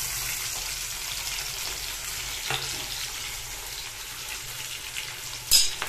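Vegetables fry in hot oil in a pan on a gas stove, giving a steady close sizzle and hiss with a few soft clatters and one sharper knock near the end.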